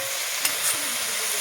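Bottle gourd stems and potatoes sizzle steadily in a pan while being stirred, with a brief scrape partway through, close and continuous with no talking.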